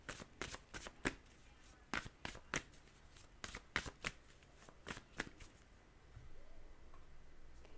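Oracle deck cards being turned and shuffled produce a run of crisp, close riffling snaps in irregular bursts, then settle into a quiet low hum near the end.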